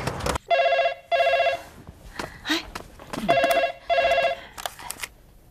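An indoor telephone rings in four bright, bell-like bursts with quiet shuffling and movement in the gaps between rings.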